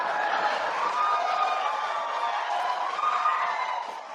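A debate audience cheering and applauding, a diffuse, continuous roar of crowd noise at a steady level that fades slightly toward the end.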